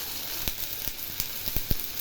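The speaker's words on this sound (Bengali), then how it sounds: "এটা এখন একটু ভাজা ভাজা করি" Chopped onion and tomato with salt and turmeric fry in a pan with a dense, steady close-up sizzle, punctuated by a few sharp taps of a stirring utensil.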